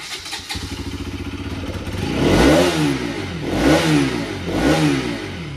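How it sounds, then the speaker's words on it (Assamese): A Bajaj Pulsar RS200 motorcycle with a single-barrel exhaust idles with a steady thrum, then revs hard three times in rising and falling surges, loud and close. "ৱাও কি চাউণ্ড ভাই, ছিংগল বেৰেল এক্সজষ্ট এনেধৰণে পাব"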